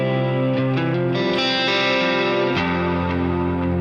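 An electric guitar plays a clean tone soaked in reverb with a touch of 70s-style chorus, ringing sustained notes that shimmer and overlap before a new chord enters near the end, loud and alone.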